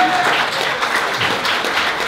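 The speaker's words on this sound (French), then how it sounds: "Fait qu'on peut donner de premier applaudissement pour les entreprises Munchies." Podcast audience applauding a sponsor, Les entreprises Munchies, with steady, dense clapping filling the whole short stretch at close, fairly loud level.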